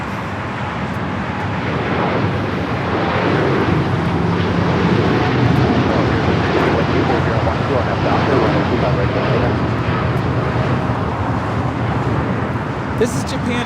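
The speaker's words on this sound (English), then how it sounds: "This is Japan Airlines Flight 61 taking off to Tokyo Narita on the 787-9 Dreamliner in the One World livery" A Japan Airlines Boeing 787-9 Dreamliner takes off at Los Angeles airport, a broad rumbling engine roar building gently and sustained throughout, with people talking over it.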